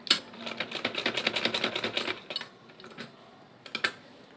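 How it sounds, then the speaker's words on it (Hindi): A sewing machine runs along the edge of a baby dress in a fast, close burst of rhythmic stitching ticks, then stops, followed by a few scattered clicks and taps, with no talk. "और अब यहाँ से हमने स्टिच करना स्टार्ट करना है। इसे बिल्कुल किनारे किनारे पर सिलाई लगानी है।"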